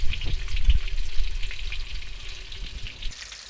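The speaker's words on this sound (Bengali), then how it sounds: "সবগুলো আমি এক এক করে ভেজে নিই।" Bombay duck (lote) fish fillets fry in hot oil one after another, a close crackling sizzle with bubbling that starts strong and gradually softens, with no talking.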